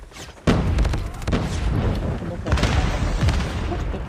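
Gunfire in a multiplayer shooter video game match, a sudden loud burst followed by repeated rapid shots and booming blasts, with a voice talking over part of it.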